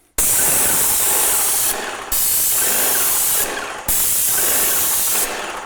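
A paint sprayer blasts primer in three long, loud, steady hissing passes, each cut off abruptly before the next begins, close up with no voices.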